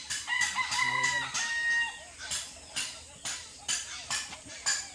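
A rooster at a junkshop crows loudly and close by, with clucking and repeated calls over a busy background.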